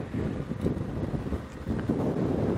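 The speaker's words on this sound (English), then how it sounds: "it's very windy on this airstrip." Strong wind buffets the microphone on an open bush airstrip during an evening safari drive, a steady low roar with gusty surges and no talk.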